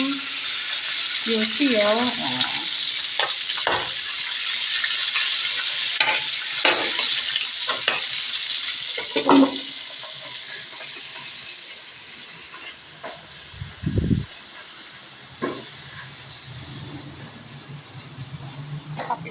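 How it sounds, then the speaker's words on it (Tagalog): Meat for a home-cooked ulam sizzles and fries in a pan, with stirring scrapes and clinks over a steady crackle, and a few brief spoken words mixed in. "magluluto muna tayo ng ating ulam"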